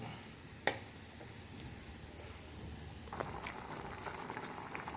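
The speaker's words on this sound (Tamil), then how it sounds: "இறக்கி வச்ச பிறகும் அரை மணி நேரத்துக்கு இது கொதிப்பு தன்மை அப்படியே இருக்கும்" Tamarind curry for a Salem-style kara kuzhambu simmers in a soapstone pot, giving a soft, steady bubbling hiss close by with a sharp tap near the start and brighter popping bubbles in the second half.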